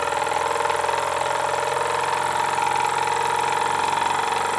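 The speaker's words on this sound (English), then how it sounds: "Has no problem running the generator." A Jensen #10 deluxe live steam engine drives a generator, giving a steady, close mechanical hum with a fast, even pulsing rhythm that continues throughout without pause.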